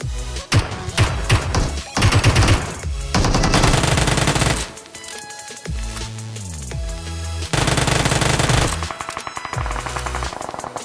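Gunfire in BGMI mobile battle royale gameplay as bots fight each other, dense rapid automatic bursts and shots with thumps, loud and continuous under game audio.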